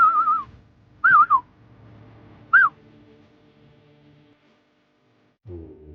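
A man gives short, sharp warbling whistles, three loud bursts in quick succession, then quiet with a faint low hum and a brief low voice-like sound at the end.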